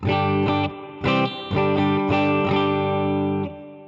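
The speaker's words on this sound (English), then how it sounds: "scene 1 is going to just have reverb and a clean sound" An electric guitar through a Fractal AX8 on a clean setting plays a sequence of bright chords and notes with a wash of reverb trailing after each strum, rich in overtones, no voices.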